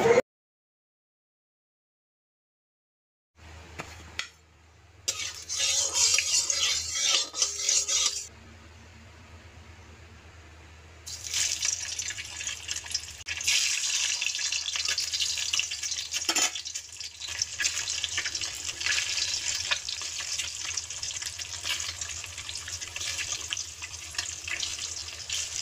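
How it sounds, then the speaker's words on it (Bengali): Duck eggs fry in a hot wok over low heat, a steady close hiss and crackle starting after a few seconds of silence and running to the end with small scraping touches. "নেওয়ার পর কড়াই গরম হওয়ার পর হালকা আঁচে আমি 2 পিঠ উল্টে ভেজে নেব।"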